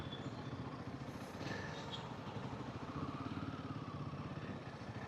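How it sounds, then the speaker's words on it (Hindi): A Royal Enfield Himalayan 450 motorcycle engine growls in Bangalore traffic, a continuous low, throbbing rumble heard close by with a faint clatter of street noise. "क्या ग्रोल है यार ये बाइक का."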